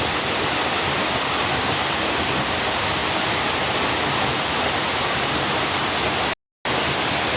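The waterfall at Piney Falls in East Tennessee gives a steady, loud, broadband rush of falling water that fills the whole span, dropping out only for a brief instant near the end.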